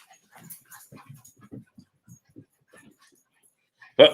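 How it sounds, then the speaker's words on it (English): Three small dogs fight, with faint scattered yips, whimpers and scuffling at a distance, ending in one sudden loud sharp bark close by. "I got 3 little dogs. They'll fight all day."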